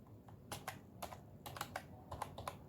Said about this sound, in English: you type in the function's name